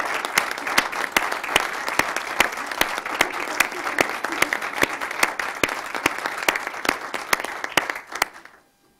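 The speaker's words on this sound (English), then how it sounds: "give her a really big round of applause" A board of education meeting room fills with a full, sustained round of applause that rings steadily for about eight seconds, then quickly fades out.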